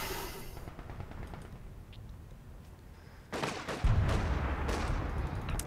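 Artillery fire in a World War tank battle video game, heard as a steady wash of distant gunfire and rumbling detonations that swell louder with sharper nearer blasts and a deep low thump partway through.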